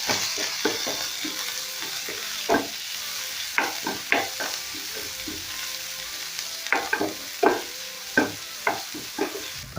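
Coriander stems and capsicum frying in a pan for a fish curry, a steady sizzle punctuated by repeated sharp scraping stirs of a spatula, close and clear, no voices.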